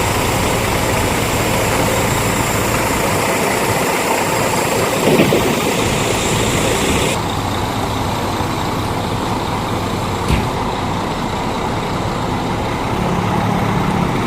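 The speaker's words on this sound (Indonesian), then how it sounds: "Ini mobilnya mau mundur Bro Masta, mau mundur" Hino RK series bus with a K410IB engine idling while reversing into position, a loud, steady low diesel rumble throughout with a brief hiss partway through.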